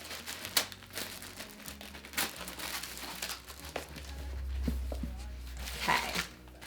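Tissue paper rustling and crinkling while a Chanel bag is unboxed from a magnetic flap box, with soft scattered crackles and a few sharper crinkles close by, under low background hum.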